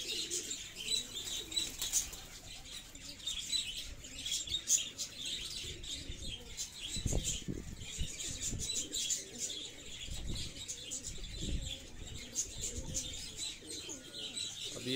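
Fighter pigeons being exercised in flight training, with soft cooing and bursts of wing flapping, some close and some farther off, over steady outdoor background noise.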